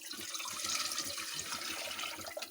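Chicken stock poured into a pan on a stovetop for macaroni soup, a steady close liquid splash and trickle running without pause for a couple of seconds.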